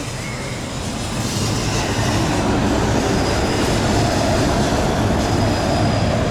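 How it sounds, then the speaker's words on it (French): A tram passes close by on a city street in Georgia, a steady loud broadband rumble of wheels on rails that swells after the first second and holds, with no talk over it. "J'adore les tramways, c'est toujours hyper technologique,"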